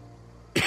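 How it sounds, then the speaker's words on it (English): A single sharp, close cough bursts out after a quiet stretch and fills the end of the moment loudly. "Trying my best not to cough and everything."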